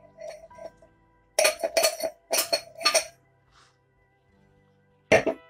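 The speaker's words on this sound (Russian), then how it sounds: "Бокал звенит громко." A string of bright clinking rings in quick bursts, close by, then a pause and a final loud clink, like wine glasses of sparkling wine striking together at a New Year toast.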